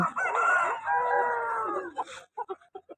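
At a Sunday rooster market in Vijayawada, a rooster crows loudly and close for about two seconds, followed by a few short, clipped clucks.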